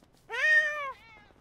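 A single clear cat meow in the video game GTA 5, rising then falling, close and alone against a quiet background.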